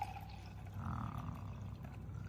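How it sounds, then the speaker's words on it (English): Hydrogen peroxide poured into a measuring jug, a faint, steady liquid stream and gurgle that swells slightly midway, heard quietly and alone without talk. "we're going to put around 220 millilitres into our measuring jug"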